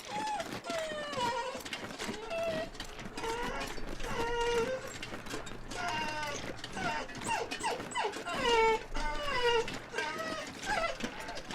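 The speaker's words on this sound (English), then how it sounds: "My doggy." A dog whimpers and whines in a steady string of high, wavering cries, fairly close and moderately quiet, with faint household noise underneath.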